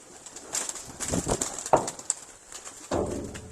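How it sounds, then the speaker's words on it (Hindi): Jugnu and Red Bull game pigeons coo in a loft, a few soft, short coos with light shuffling and thumps, quiet and close, without speech. "ये आपको जो इस वक्त कैमरे में दिखाए जा रहे हैं ये गेम वाले कबूतर हैं जी"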